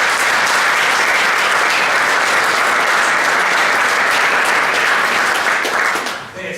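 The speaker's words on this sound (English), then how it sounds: "Players, give them a round of applause." Players at a high school football banquet applaud steadily, a dense, loud wash of clapping from a large group that holds for about six seconds before tapering off.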